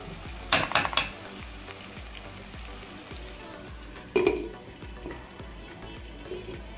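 An onion and tomato mixture for Chettinad chicken curry simmers in a lidded pan with a low, continuous sizzle, broken by two brief clattering bursts, likely the lid or utensil, and no talking.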